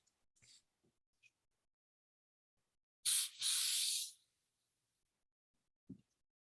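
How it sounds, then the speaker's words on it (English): Zinsser shellac seal coat sprayed from a can onto a paper towel: one brief hiss, then a longer steady spray burst of about a second, close and loud, with a few small handling clicks around it. "What are you spraying onto that paper towel? Just Zinsser shellac seal coat stuff."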